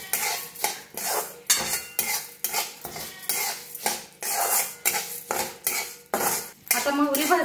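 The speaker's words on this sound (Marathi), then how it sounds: "आता मोहरी भाजून घेऊया" Mustard seeds roasting in a little oil in a pan, stirred steadily so a metal utensil scrapes and clinks against the pan in a fast repeating rhythm, close and fairly loud, with no talk.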